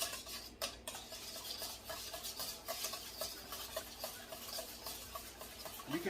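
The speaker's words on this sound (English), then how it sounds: "I'm going to use this whisk to begin to whisk them together." A whisk beating ingredients together in a bowl, quiet rapid scraping and tapping strokes repeating in a steady, continuous rhythm close by.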